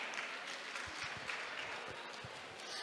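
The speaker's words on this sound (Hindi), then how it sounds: "एक बार फिर जोरदार तालियों के साथ सभी कलाकारों का अभिनंदन करती हूँ" Applause for performers at a Saraswati Puja cultural program, a steady wash of clapping from an audience, fairly faint and continuous throughout.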